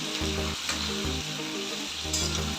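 Potatoes fry in oil in a pan with a steady, close sizzle, while a low hum pulses underneath in a broken rhythm; no voices.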